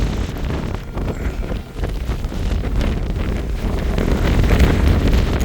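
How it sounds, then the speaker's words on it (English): Strong wind buffets the microphone on the exposed cliff-edge summit of Stob Dearg, Buachaille Etive Mòr, in Glencoe. A loud, continuous roaring gust with no talking. "And the way the wind's blowing, to get out of the wind you'd be going off the edge of the cliff."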